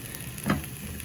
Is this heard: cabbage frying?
yes